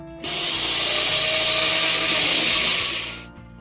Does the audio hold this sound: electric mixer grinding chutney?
yes